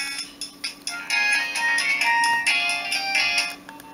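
A Nokia 1208 phone plays its polyphonic ringtone, a bright, synthetic melody of sustained tones that starts with a few short notes and then runs on continuously and fairly loud.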